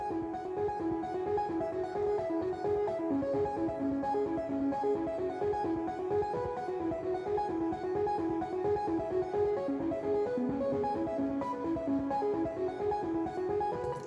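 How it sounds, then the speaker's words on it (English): Distorted, glitchy piano plays dense sustained chords through a chord change, a continuous smeared wash of tone with a steady fuzzy texture and no voices. "So that is the glitchy piano intro"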